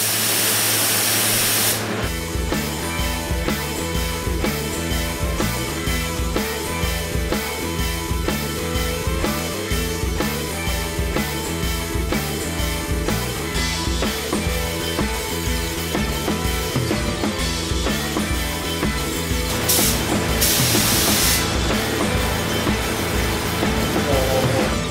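A spray gun's continuous hissing spray of paint on Subaru WRX STi exterior parts runs for most of the stretch, loud and steady, with brief pauses and bursts of stronger spraying near the end.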